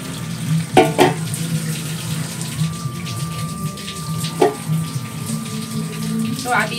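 Running water rinses ingredients in a bamboo cup at home during traditional preparation, with a steady flowing wash, a few louder splashes and clinks, and a low background hum.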